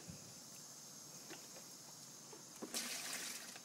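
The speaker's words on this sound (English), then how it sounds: "You water that grass." Water poured onto grass in a backyard gives a faint, steady trickle, then a brief louder splashing gush near the end; no talking.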